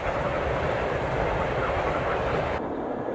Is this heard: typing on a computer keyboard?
no